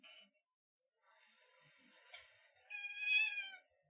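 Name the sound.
cat meowing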